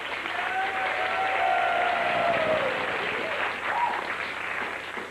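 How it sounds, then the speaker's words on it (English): A television game show studio audience applauds loudly and steadily for several seconds, a dense wash of clapping with a few whistles rising through it. "Another round of applause, please."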